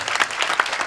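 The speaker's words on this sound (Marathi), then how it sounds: "म्हणून टाळी जरा खन खन देत जा" An audience at a kirtan claps together in a short, dense burst of applause that sounds fairly close and lively.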